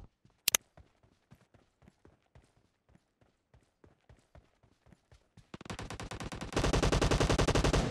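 Gunfire in the PUBG Mobile video game: a slow run of single sharp shots with footsteps, then dense rapid automatic bursts that grow louder and fill the last two seconds.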